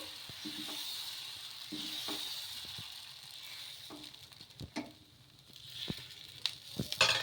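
Dosa batter spread on a hot pan, a steady close sizzle and hiss with scattered light scraping taps of the ladle as it spreads.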